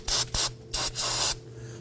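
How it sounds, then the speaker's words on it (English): Aerosol spray cleaner hisses in four short, loud, close bursts as debris is cleaned off the nut of a front brake hose on a 2018-2024 Toyota Camry. "I'm going to spray this down."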